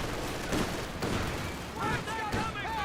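Grenade blasts and gunfire crackle in a Company of Heroes 2 battle, several muffled bursts packed into a few seconds while a commentator talks over the action.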